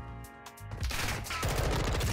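An M4 assault rifle fires in Modern Warfare 2: quick, rapid bursts of close gunfire that build into a dense, sustained stream of shots, with no talking over it.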